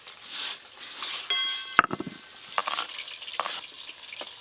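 Catla fish belly pieces frying lightly in the oil rendered from the fish in a village kitchen, a soft crackling sizzle broken by stirring scrapes and a couple of sharp utensil knocks, with no voices.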